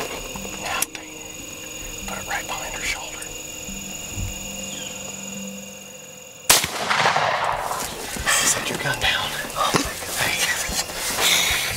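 A single gunshot on a hunt cracks out partway through, amid outdoor rustling and hushed voices talking before and after the shot.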